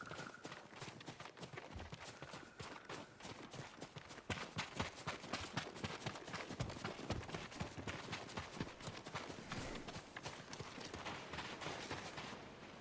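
Horses' hooves clip-clopping at a steady run in Ghost of Tsushima, a dense, continuous patter of hoofbeats kept up close and fairly loud, with a faint voice now and then.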